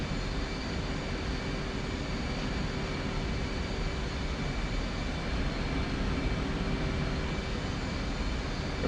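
F/A-18 jet engine in the flight simulator DCS World, a steady, even roar with a faint tonal whine, heard from inside the cockpit and unchanging throughout, with no talk.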